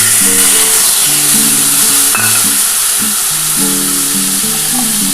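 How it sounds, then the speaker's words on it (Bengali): Mustard seeds sizzle in hot oil while making parshe fish in mustard gravy, a loud, dense frying hiss heard close, with faint tonal sounds underneath and no speech. "এই তেলের মধ্যে আমি সর্ষে দিয়ে দিলাম"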